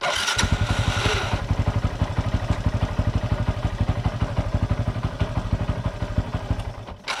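The starter of a modified Yamaha Y15ZR motorcycle with a worn one-way bearing cranks roughly in a fast, steady, clattering rhythm for several seconds, loud and close, with no talking.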